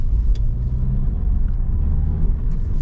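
A Cavalier Diplomat's engine runs at a steady idle with a low, even rumble, close and continuous, with a faint brief tick near the start.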